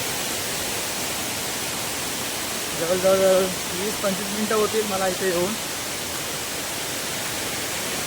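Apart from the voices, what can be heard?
waterfall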